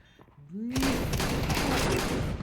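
Shotgun blasts in Counter-Strike 2 on the Mirage map, a loud sustained burst of gunfire following a brief rising game tone, with a voice talking faintly underneath.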